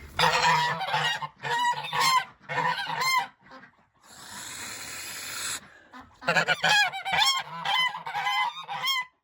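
Geese on a snowy farm honk repeatedly in loud, overlapping bursts, with a brief rushing noise in the middle before the honking resumes close by.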